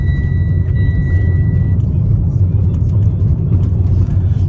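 A 2013 Mitsubishi Lancer on the move, a steady loud low engine and road rumble from inside the cabin, with a brief faint tone early on and no talk.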